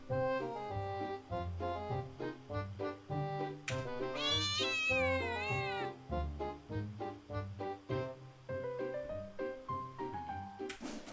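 The Cheshire Cat in the video game Black Souls II gives a series of clear, close meows and drawn-out cat calls. They sound steady and loud, with tonal game sound running alongside.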